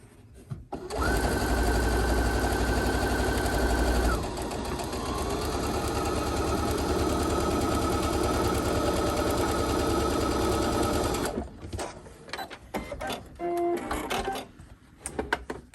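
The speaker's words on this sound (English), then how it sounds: "My stitch length is now at 2, and I'm ready to sew it." A sewing machine stitches a paper-pieced quilt block at a stitch length of 2, running loud and steady in one continuous burst of whirring, then stopping, followed by a few small handling clicks.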